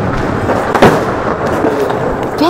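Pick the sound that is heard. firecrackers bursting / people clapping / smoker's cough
firecrackers bursting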